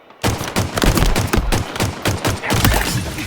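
Gunfire in a Simpsons video game, a loud, dense burst of rapid shots that starts abruptly and keeps rattling in uneven volleys, close and with no talking.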